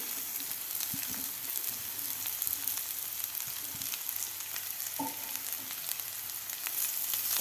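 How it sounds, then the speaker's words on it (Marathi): Boiled safflower greens (kardai bhaji) stirred in a pan over a fried ground spice paste give a steady, fairly loud sizzle with occasional soft scrapes of the spoon, and no one speaks. "भाजी आपल्याला व्यवस्थित हलवून घ्यायची आहे"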